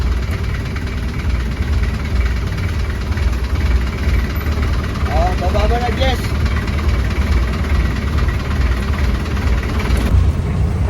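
A jeep with an overhauled Isuzu 4BE1 transmission runs on a road test, its engine giving a steady loud rumbling drone with a slight knock, while people talk briefly over it.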